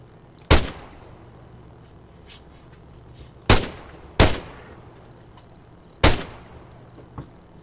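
Four sharp, loud single gunshots ring out from the ArmA 3 military shooter game, spaced a few seconds apart, each with a short decaying tail over a quiet low ambient hum.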